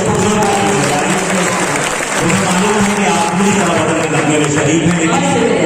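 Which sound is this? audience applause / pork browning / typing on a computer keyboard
audience applause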